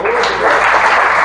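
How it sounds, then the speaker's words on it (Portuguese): A church congregation claps loudly and continuously during an Easter sermon, a close, full burst of many hands that may carry faint voices mixed into it. "Vamos aplaudir o nosso Rei Jesus?"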